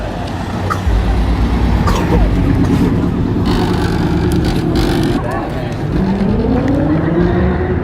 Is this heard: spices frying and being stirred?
no